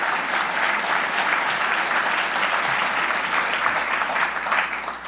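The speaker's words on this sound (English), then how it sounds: "give yourselves a round of applause." Dense, steady applause from a large audience at a national conservative student conference, a continuous roar of many hands clapping at the same level throughout.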